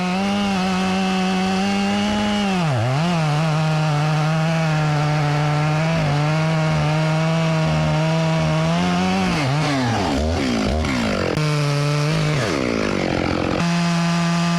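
A chainsaw hollows out the middle of a black walnut log, a loud, steady engine drone that dips and bogs briefly under load a few times, then roars back through continuous cutting with no talk.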